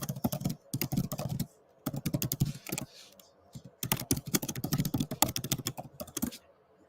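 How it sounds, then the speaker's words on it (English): A computer keyboard is typed on in close, rapid bursts of key clicks separated by brief pauses, with faint speech audible at times. "I didn't even really watch it as I was typing the message to Bruce."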